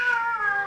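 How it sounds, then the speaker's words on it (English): Cats meow and caterwaul close by in a continuous, wavering wail from a vintage comedy film soundtrack. "Oh, there they go again, them pesky cats."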